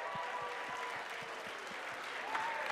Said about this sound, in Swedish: Ska vi ge dem en rungande applåd?